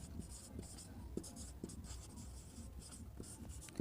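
A marker or chalk scratches across a classroom board while an organic chemistry name is written out, short faint strokes in an irregular rhythm, quiet and close, with no speech over it.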